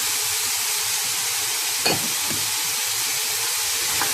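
Vegetables, soya, paneer, cashew nuts, mint and coriander for a restaurant-style vegetable biryani sauté in a hot pan with a continuous close sizzling hiss, broken briefly by a couple of stirring scrapes.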